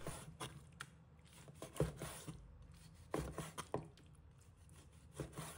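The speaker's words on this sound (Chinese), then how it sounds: "将鸡腿肉切成均匀的小块" A knife cuts chicken thigh meat into even small pieces on a wooden cutting board, making repeated irregular thuds and scraping, rubbing strokes at close range with no talking.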